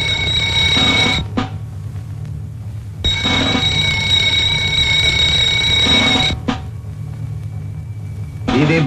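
Loud electric security alarm bells from an older Telugu film ring in long, shrill bursts, each lasting a few seconds. Brief gaps separate them, and a fresh burst starts right at the end.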